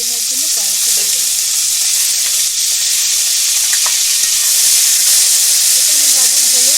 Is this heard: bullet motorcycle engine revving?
no